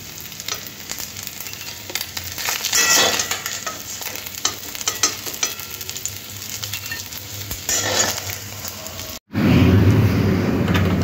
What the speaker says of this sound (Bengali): মাছগুলো দেখুন এইভাবে ভেজে নিয়েছি। এবারে উঠিয়ে নেব।